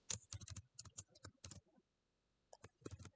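Fingers tap out quick clusters of keystrokes on a computer keyboard, crisp and close, with a short lull in the middle before another burst of clicking resumes.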